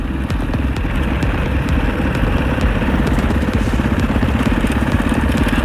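A dirt bike engine idles steadily and close, a continuous low rumble with no pauses.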